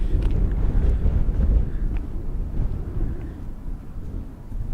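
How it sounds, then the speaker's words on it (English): Strong wind at Hoover Dam buffets the microphone in a loud, continuous low rumble that surges and eases throughout, with no talk. "It is super windy."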